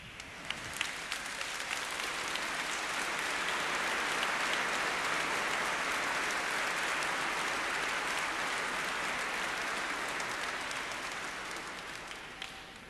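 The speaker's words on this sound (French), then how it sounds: "on peut applaudir" Sustained applause fills a large church at a bishop's ordination ceremony, a dense, even wash of many hands clapping that swells and then slowly fades, with no talk over it.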